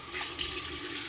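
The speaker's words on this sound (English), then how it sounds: "Now I'm just rinsing the brush out." Running water pours steadily over a new badger-hair shaving brush as it is rinsed, a close, even splashing stream with no pauses and no talking.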